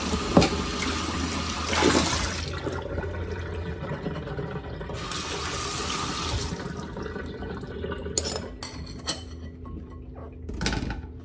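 Tap water runs in a sink while okra is rinsed, a steady splashing flow with surges of louder gushing and a few clunks near the end, and no talking.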